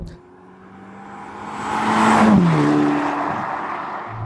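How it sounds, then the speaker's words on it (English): A Ferrari Roma driving on the road with its 8-speed automatic gearbox, the engine note rising steadily to a loud peak and easing off as it holds speed, sounding close and without talk. "I'm currently driving to a fuel station"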